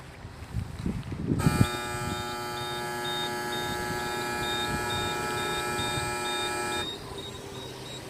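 A steady electronic warning tone from a Hanyoung Nux car park exit warning light sounds for several seconds, cutting in abruptly and stopping just as suddenly, with faint background noise before and after.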